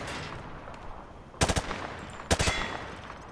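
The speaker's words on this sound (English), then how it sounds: "He sprayed bullets all over the damn place." Two short bursts of automatic rifle fire from the hip in Modern Warfare 2, each a rapid string of sharp, loud shots about a second apart over a low background hum.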